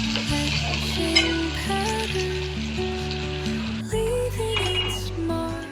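Chopped medium onion hits hot oil in a pan, sizzling and crackling steadily and close, with a few scraping stirs, while a tonal background hum runs underneath.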